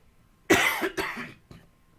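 Three close, harsh coughs in quick succession, the first strongest and the last short and weaker, surrounded by near silence.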